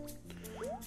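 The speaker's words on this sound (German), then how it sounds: "Wasser." Water drips in a cave level of Kirby's Epic Yarn, with quick, bright plinks that rise in pitch over a low ambient game hum.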